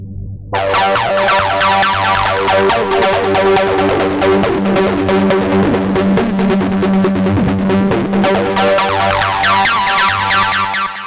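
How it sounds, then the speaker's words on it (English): An ambient acid 303 synth line for a hard melodic techno track pulses in fast, squelchy repeated notes washed in reverb and delay, loud and continuous over about ten seconds with no voices. "this is nice Acid 303 that I made, and it's a bit more ambient. It's got a bit more reverb and delay on it"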